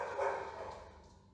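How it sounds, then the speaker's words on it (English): A dog barks loudly at the start, followed by a fading, whimpering yelp that trails off over a second or so. "Sorry about my dogs."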